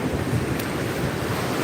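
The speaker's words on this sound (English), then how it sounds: "And the waves are getting a little bit better." Steady surf rolling onto a Florida beach on an overcast morning, a continuous near wash of water and foam blended with wind rumble on the microphone, with a brief sharp hiss partway through and no talking.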